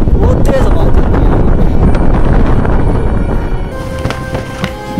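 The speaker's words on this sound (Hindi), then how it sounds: "बहुत तेज़ हवा चल रही है।" Very strong wind roaring across the high mountain pass at Babusar Top, a loud, continuous gusting rush buffeting the microphone, easing slightly near the end.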